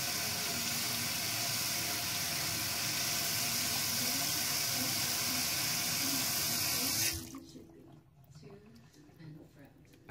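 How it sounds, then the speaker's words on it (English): Water gushes steadily and loudly while rinsing out a weed pipe cleaned with Skunkwerks Resin Blaster, then cuts off abruptly partway through, leaving faint drips and quiet handling sounds. "Make sure you rinse it out real good, so that way you can get all the extra stuff out."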